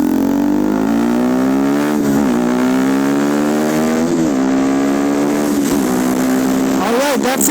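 Motorcycle riding through traffic, its engine droning loud and close with steady pitch and several rises as the throttle opens, under constant wind rush and a voice talking over it.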